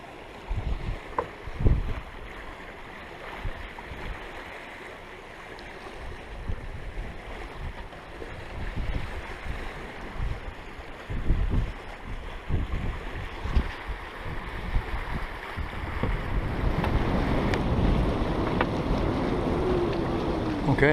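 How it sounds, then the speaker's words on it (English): A catamaran sails on a beam breeze with no engine running, a steady wash of water and wind noise along the hulls, with occasional knocks and a rising rush of water toward the end. "Now we've got a good breeze on the beam, so we're sailing again."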